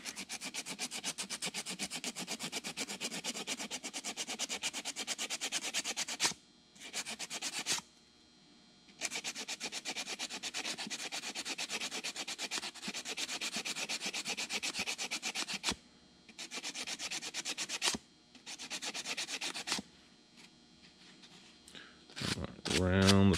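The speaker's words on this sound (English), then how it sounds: "You don't want to sand down any more into this notch." Sandpaper rasps steadily into the notch of a self nock on a bamboo or rivercane arrow, a close, continuous scratchy rubbing broken by a few short pauses and then resuming.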